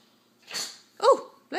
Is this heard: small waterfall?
no